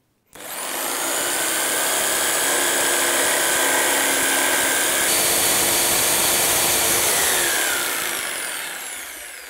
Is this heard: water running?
no